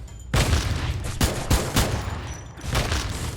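Rapid bursts of gunfire in the mobile battle-royale game Free Fire, several loud, close volleys with brief gaps between them, no voices.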